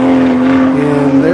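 A Toyota Supra race car runs past on the track during the Tire Rack One Lap of America at Hedge Hollow, its loud, close engine drone holding a strong, steady pitch.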